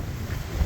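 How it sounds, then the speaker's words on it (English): Strong wind buffets the microphone outdoors beside an RV, a brief low rumbling roar with soft gusty swells. "It is super windy out here"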